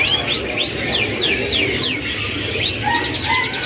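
Loper canaries sing at a bird market kiosk in Jakarta, with rapid rising whistles, quick trills and repeated chirps carried over a steady murmur of background crowd noise.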